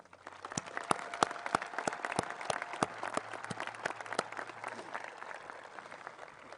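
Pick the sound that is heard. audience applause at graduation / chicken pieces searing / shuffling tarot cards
audience applause at graduation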